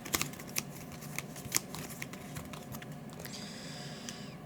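Game cards from a Marvel Champions tabletop deck are shuffled by hand in a quick series of crisp riffling snaps and soft slides, close and fairly quiet, with no voices.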